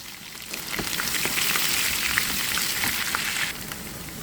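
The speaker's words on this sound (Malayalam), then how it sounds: "എന്നിട്ട് നമുക്ക് ഇതിലോട്ട് കടുക് ഇട്ട് കൊടുക്കാം." Mustard seeds crackle and pop in hot oil for sambar, a dense patter of sizzling with scattered sharp pops that rises, holds, then eases off.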